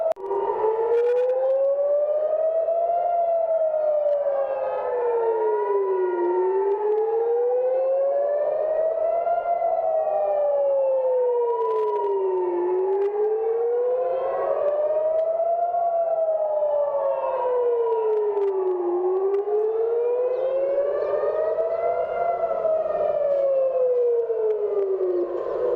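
A civil defense air raid siren wails across the city center of Jerusalem, its pitch slowly rising and falling in long continuous cycles, loud and steady with no voices over it.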